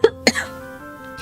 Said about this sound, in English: I'll be coughing a lot, but this is due to I have asthma